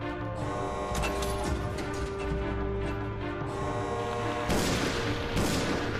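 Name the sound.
gunfire in Resident Evil Zero video game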